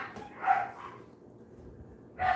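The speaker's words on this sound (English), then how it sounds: "My son's dogs are screaming to get out" Dogs shut indoors bark and whine to be let out, a few muffled yelps from another room over a quiet background.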